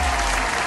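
Brief burst of audience applause, dense and steady, filling the whole short moment with close, continuous clapping.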